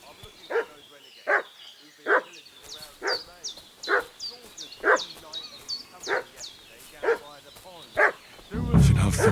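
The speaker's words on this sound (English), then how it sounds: "What's that dog making such a fuss about?" A dog in Kingdom Come: Deliverance II barks in a steady series of sharp, loud yaps about once a second, with higher yips and whimpers between them, close by and alone until a louder rumbling noise comes in at the very end.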